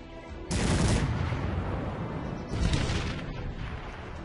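Cannon fire in the video game Cossacks 3, with two heavy booming bursts that roll into a sustained rumble of battle noise, loud and close, with no talk.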